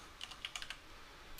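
A short run of quiet keystrokes on a computer keyboard, typing into the Windows 10 search box, with a handful of soft clicks in quick succession.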